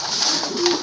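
Pigeons coo close by, a soft murmuring call with one brief steady tone near the middle, over a continuous bed of hiss lasting under a second.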